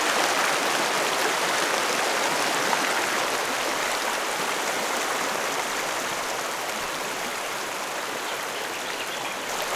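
Rushing mountain stream tumbling over small waterfalls and cascades in the Snowy Mountains, a steady broadband wash of water that stays loud and unbroken throughout, with no voices.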